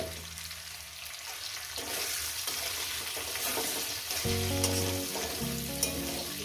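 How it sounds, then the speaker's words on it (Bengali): Mourala fish frying in a pan with spinach and potato for a dry chorchori, a constant moderate sizzle with stirring and occasional clinks, close and without speech. "এটাকে আমি ভালো করে ভাজবো মিনিমাম তিন মিনিট"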